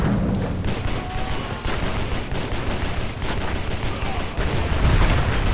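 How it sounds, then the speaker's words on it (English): Dense, continuous barrage of gunfire from the John Woo's Stranglehold video game, loud and unbroken from start to finish with rapid overlapping shots and booms. "Barrage fires massive amounts of damaging bullets at your enemies and doesn't use your ammo"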